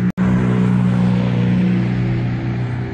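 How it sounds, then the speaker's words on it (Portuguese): Steady engine hum of cars passing on a road next to a train line in the United States, loud and continuous with a brief dropout at the start, no voices. "porque tem o trem desse lado e carros passando do outro lado"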